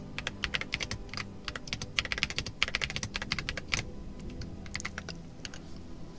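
Fingers type steadily on a pre-lubed Aula mechanical keyboard, giving a close, dense run of soft, muted key clacks with brief pauses and no talking.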